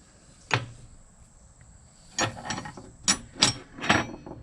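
A Proto 5447 ratchet clicks: one isolated snap, then a quick run of several loud, close metallic ratchet clicks in an uneven rhythm.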